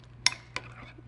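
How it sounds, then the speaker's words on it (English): Sweet pickle relish being stirred into tartar sauce in a bowl: two quick clinks of a utensil against the bowl followed by faint scraping, heard close over a low steady hum. "I'm going to give that a stir."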